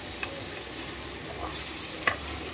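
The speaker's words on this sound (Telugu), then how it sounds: "ఒకసారి అంతా కలిసేలాగా ఫ్రై చేసేద్దాము." Chicken frying with spice powder sizzles softly in a pan while a utensil stirs it, making a few sharp scrapes and clinks over the constant low crackle.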